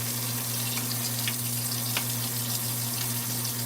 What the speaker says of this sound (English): wash my blueberries